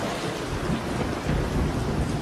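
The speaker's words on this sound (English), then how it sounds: "The monsoons of the Western Ghats are legendary, dropping almost 9 meters of rain annually in some places." Heavy monsoon rain pours steadily in the Western Ghats forest with a dense roar, and thunder rumbles low beneath the downpour throughout.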